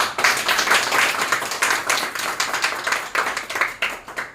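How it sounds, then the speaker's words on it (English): A class of students claps for classmates with close, fairly loud, irregular hand claps in a brief burst lasting about four seconds. "So please clap for them."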